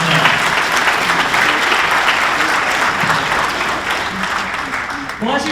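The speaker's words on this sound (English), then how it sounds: "another big round of applause for our title sponsor" A hall full of people applauding at the 2025 St. Joseph Area Sports Hall of Fame induction ceremony, a loud, dense, continuous round of clapping that holds steady throughout with some voices mixed in.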